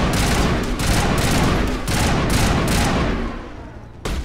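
Sustained heavy gunfire in the video game Mass Effect Legendary, with dense rapid shots and explosive bursts blending into a loud, continuous barrage that briefly dips near the end before another blast.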